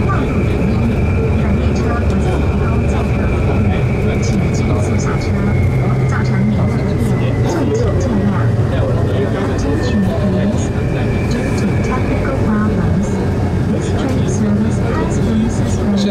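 New Taipei Metro Circular Line train 105 running on an inspection trip between stations, a steady loud rumble of wheels and motors with a faint whining tone, someone talking over it.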